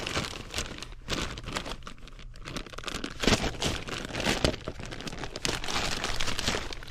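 Plastic hanger strap for a crawlspace dehumidifier installation crinkles and rustles continuously as it is handled close by, with scattered sharper crackles.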